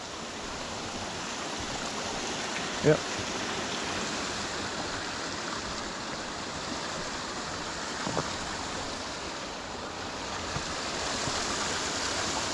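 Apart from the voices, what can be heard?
small brook running fast after lots of rain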